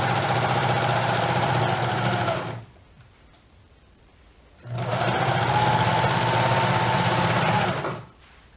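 A serger stitches the shoulder seams of a shirt made from Simplicity pattern 1463, running in two steady, loud whirring bursts with a brief pause between them.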